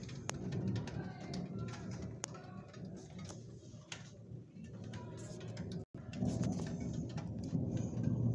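Thunder rolls low and heavy through a moderate, highly electric storm in Calvados while pigeons coo close by and rain patters, with sharp ticks scattered throughout and a sudden brief drop near the end.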